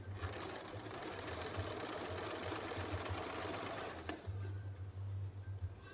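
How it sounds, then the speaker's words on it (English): Sewing machine stitching dress fabric, running in a steady, fast mechanical whir with a low pulsing hum, briefly pausing before starting again, close and moderately loud. "When you start stitching with the machine, you always have to go back to reinforce the stitch."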